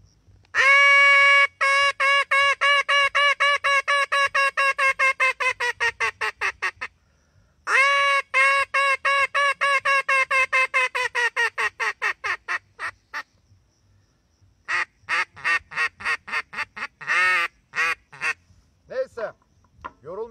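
A hand-blown duck call imitating ducks beside a lake, rapid series of loud nasal quacks in long rhythmic runs, pausing briefly between sequences and ending in slower scattered calls, close and clear.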